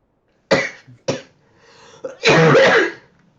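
A person coughs near the microphone: two sharp coughs, a pause, then a longer, harsher fit of coughing, with no other sound.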